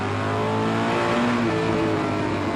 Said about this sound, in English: you can hear that big Dodge Beauchamp power down the backstretch